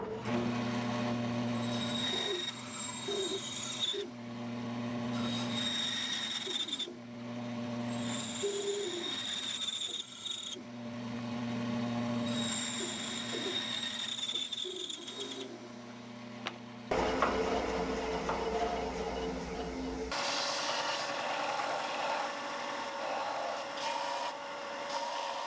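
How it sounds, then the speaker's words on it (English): A wooden bluegill swimbait is carved with a power tool, a whining, buzzing motor running in bursts with short pauses and shifting pitch as the cutter bites the wood, close and steady, no talk. "So I'll be marking out and carving this bait in segments."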